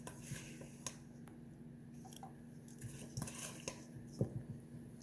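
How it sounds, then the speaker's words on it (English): A spoon scoops apple cinnamon filling into the centre of a pastry, giving soft, quiet clinks and wet squishes scattered across several seconds, with no talking. "Now it's time to spoon this in, and you're going to spoon it right in the center."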